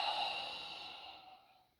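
A slow, steady ujjayi deep-breathing exhale, a breathy hiss close to the mic that fades gradually over about two seconds, with no talking.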